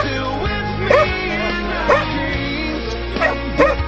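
Hunting dogs bark during a wild boar hunt near Çamlıbel, Turkey, giving a few sharp, loud barks spaced about a second apart over a steady outdoor background.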